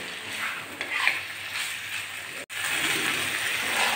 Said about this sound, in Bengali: কলার পাতা নিয়ে এই জন্য আমি কড়াইতেই মশলা দিয়ে এভাবে ভাজি করছি